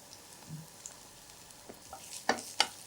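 Onions with a sprinkle of salt sautéing in a pan give a faint, low sizzle, with a few sharper clinks and scrapes near the end, close and quiet with no voices.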